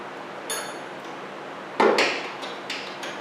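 A loosened rear part on a Bad Boy Maverick mower deck is jiggled and pushed down, giving a few sharp metallic clinks and knocks spaced across the moment, one louder than the rest, close by with no talk.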